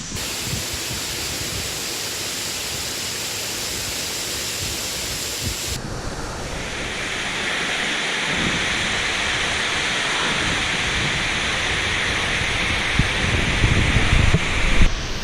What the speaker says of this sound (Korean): 와 폭포가 장난 아닌데